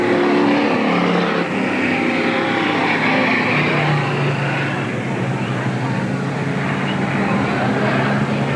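Race cars roar around Eugene Speedway on the final lap of a 1987 race, a loud, continuous engine drone under a commentator's voice.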